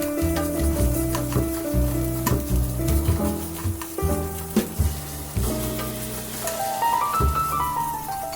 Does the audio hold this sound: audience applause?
no